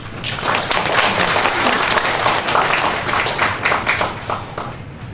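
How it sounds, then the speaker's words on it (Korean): A church congregation claps steadily to welcome a pastor to the pulpit at Sunday worship, dense, even applause filling the room for several seconds without speech. "우리 목사님을 큰 박수로 맞이하도록 하겠습니다."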